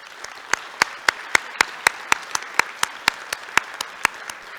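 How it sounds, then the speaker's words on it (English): A single pair of hands claps slowly and evenly near the microphone for city councilmen at a Toledo Rotary meeting, about sixteen sharp, distinct claps over a soft room hum. "Can we please give them a round of applause?"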